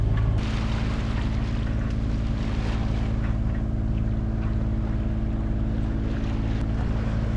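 A sailing yacht motors offshore under engine on a windless evening between the Canary Islands and Cape Verde, a steady loud engine drone with a low hum and water rushing along the hull throughout.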